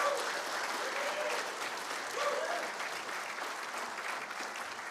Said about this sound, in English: So let's give him a round of applause for what he's done.